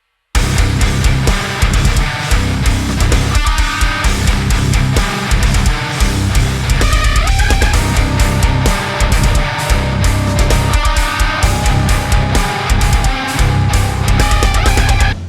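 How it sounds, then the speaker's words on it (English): A dense, loud, distorted heavy metal guitar breakdown with dissonant chords played across the fretboard, chugging in heavy staccato bursts with pounding drums throughout. "He wrote a very dissonant breakdown with dissonance all across the fretboard"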